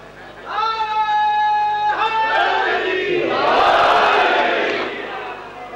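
An audience at a Muharram majlis in Mandi Bahauddin calls out a religious slogan together; a loud, close mass chant of sustained, overlapping voices swells for several seconds and then fades.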